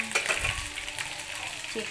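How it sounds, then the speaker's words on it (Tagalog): Chicken, boiled and seasoned first, frying in a pan, with steady sizzling and a few clinks and stirring scrapes of a utensil against the pan. "nagprito na naman tayo ng chicken para lunch ng aking mga apo"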